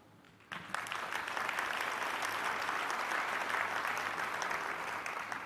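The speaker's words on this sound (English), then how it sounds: "Clap a little bit more." A keynote audience at the 2013 URJ Biennial bursts into applause after a brief quiet moment, a dense, sustained clapping that holds steady to the end.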